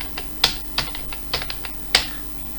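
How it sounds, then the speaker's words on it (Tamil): Text is typed on a computer keyboard while working in AutoCAD, a handful of separate, sharp keystrokes spaced unevenly and heard up close with no talk. "இப்போ நம்ம இதில் நம்ம தேவையான டெக்ஸ்ட் டைப் பண்ணுறோம்."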